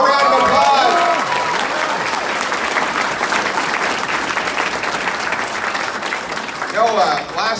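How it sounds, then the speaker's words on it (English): Audience applause at a political rally in Woodstock, New Brunswick: a sustained burst of dense clapping and crowd noise fills the room, with voices rising over it at the start and end. "Everybody give him a round of applause."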